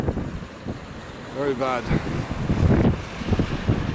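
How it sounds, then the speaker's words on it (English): Wind at Calais buffets the microphone in strong gusty rumbles, while someone speaks briefly over the blustery noise. "This is horrible here. It's windy."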